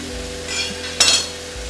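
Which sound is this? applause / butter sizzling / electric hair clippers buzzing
butter sizzling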